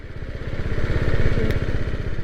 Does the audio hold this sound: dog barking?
no